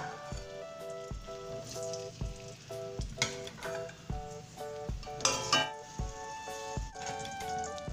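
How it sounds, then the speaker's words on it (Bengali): Potatoes going into hot oil in a wok for Kolkata-style chicken biryani, with a steady sizzle and frying hiss under close metallic clinks of a spoon against the pan, heard alone. "তেল গরম হয়ে গেছে, এবার আমি আস্তে আস্তে করে আলুগুলোকে দিয়ে দিচ্ছি।"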